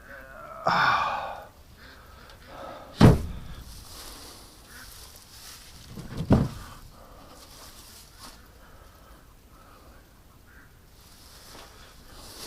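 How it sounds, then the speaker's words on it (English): A duck flushed off her nest full of eggs in a tight spot gives two sharp quacks, spaced apart over quiet rustling, fairly close. "that little duck got off her nest"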